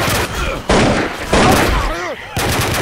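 Bursts of rapid gunfire crack out in several loud volleys in Left 4 Dead 2, separated by short gaps where game voices and whooshing effects come through.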